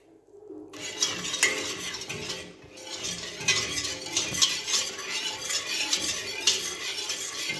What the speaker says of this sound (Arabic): انا الحقيقه نبدا نعصب بالفوي حتى لين تبدا تشد روحها